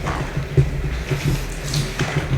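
Water sloshing as a wig is rinsed in a small bucket, a close, continuous swish with soft splashes and drips recurring through the short stretch, with no voices.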